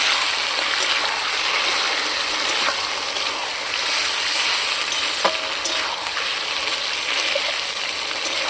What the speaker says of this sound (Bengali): পেঁয়াজ ভাজা হয়ে গেছে, এবার ম্যারিনেট করে রাখা মাংস আমি দিয়ে দিচ্ছি।